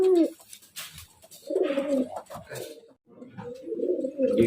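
Competition turtledove entered in an Indonesian bird-song contest, sent from Depok, gives low, rolling coos in two long phrases separated by a short pause. The cooing is close and steady, with faint background chatter.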